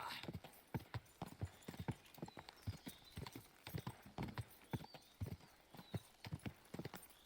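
A horse's hooves clip-clop in Kingdom Come Deliverance 2, a fast run of sharp, evenly spaced hoofbeats close by, with a voice cheering faintly underneath.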